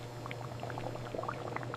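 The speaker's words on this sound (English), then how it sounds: "the syrup reaches the concentration pan for the last stage of boiling" Sugarcane syrup boiling in a concentration pan during jaggery making, with steady low bubbling and scattered pops and gurgles over a constant hum, fairly quiet, no voices.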